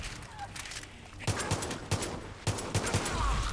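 Gunfire in the Far Cry 5 video game, with several sharp shots landing in bursts over a low background, fairly quiet overall.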